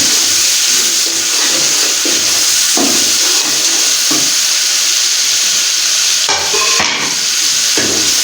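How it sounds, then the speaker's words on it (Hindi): Spices fry and are stirred in a pan while chickpea curry is being made, a loud continuous sizzle and hiss with scraping stir strokes and occasional clinks, close and unbroken throughout. "मसालों को भी अच्छी तरह से 1/2 मिनट के लिए हम बुनाई करेंगे।"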